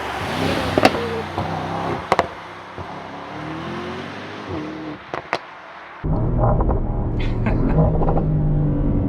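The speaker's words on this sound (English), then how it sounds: "This is crazy, the pops and bangs." Mercedes-AMG GT 63 Coupe sits close and loud, its engine rumbling and revving while sharp exhaust pops and bangs crack out in quick bursts, then a heavier, steady roar takes over near the end.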